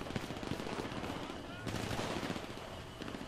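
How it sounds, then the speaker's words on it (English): Rapid bursts of automatic gunfire from shooters in GTA 5 Online, dense overlapping shots rattling continuously and fairly loudly, with voices faintly present underneath. "Where the hell are they shooting us from?"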